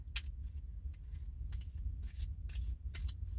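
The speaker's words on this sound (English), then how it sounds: "So I'm going to go ahead and just shuffle these up." A deck of playing cards is shuffled at a card night, with quiet repeated riffling bursts roughly every half second, faint and close, under a low background rumble.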